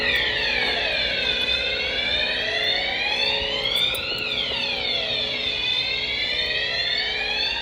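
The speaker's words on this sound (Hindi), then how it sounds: "और इतने में अलार्म बज जाता है।" Car alarm siren wailing in an empty mall parking lot, a loud continuous electronic tone sweeping up and down in repeated cycles throughout.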